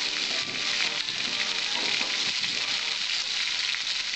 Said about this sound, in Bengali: আমার 2-3 মিনিট লাগে পটলটা ভাজতে।